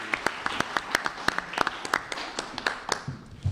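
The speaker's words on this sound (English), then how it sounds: "please join me in a round of applause" A small audience at a Somers, New York town board meeting claps in a brief, sparse round of applause, individual claps distinct and fairly close, tapering off after about three seconds.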